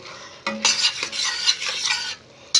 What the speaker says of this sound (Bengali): আমি এতে হাফ চিপি ভিনিগার আর 1 চামচ ভাজা মশলা গুঁড়ো দিয়ে এবার আমি মিশিয়ে দেব